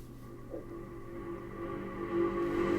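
A reversed reverb tail from a bass loop in Ableton Live, a low, hazy wash that slowly swells and thickens in loudness over a few seconds, heard alone without voices.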